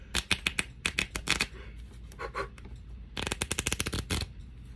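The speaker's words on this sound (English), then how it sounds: "You flip them like this, get a bunch of different cards." Cards from a Dollar Tree magic deck riffled quickly by hand in two bursts of rapid flicking, close and crisp, with a brief pause between them and no talk.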